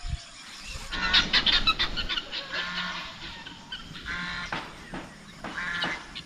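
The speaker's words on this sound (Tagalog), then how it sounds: "Ito yung mga pato natin" Ducks calling on a farm where beef cattle are being fattened, a busy chorus of honking, quacking birds mixed with other fowl, fairly loud and continuous throughout.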